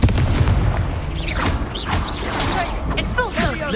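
Fiery spell blasts crackle and boom in a wizard video game, several bursts of Confringo fire spell explosions with whooshing magic effects layered over a steady game soundscape.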